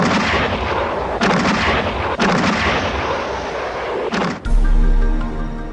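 Naval bombardment and artillery fire from warships during the landings at Leyte in the Philippines: loud, dense rumbling barrages of booms that swell and break off several times, ending in a deep, heavy blast.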